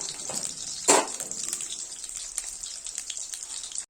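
Potatoes fry in hot white oil in a wok, giving a steady close crackling sizzle. One louder burst of spattering comes early and then settles back into the even hiss.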